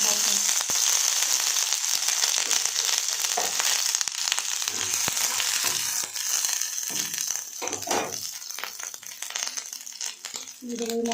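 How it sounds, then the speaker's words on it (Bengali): Black cumin seeds and ginger paste sizzle and crackle loudly in hot oil, a dense continuous frying hiss with popping, while someone talks over it. "তো তেলটা গরম হয়ে গেছে, দিতে পারছে কালো জিরে ফোড়ন, আর একটু দিতে পারছে আদা বাটা।"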